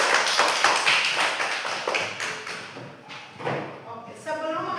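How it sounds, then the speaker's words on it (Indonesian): A short burst of clapping from a class of students, loud and quick at first and fading out within a few seconds, with light talk over it. "Tepuk tangan dulu untuk kita semua."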